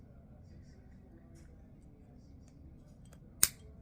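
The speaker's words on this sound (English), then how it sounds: "Let me trim this in a slant" A single sharp snip of scissors cutting 16-gauge beading wire at a slant near the end, preceded by a quiet room with soft handling noises.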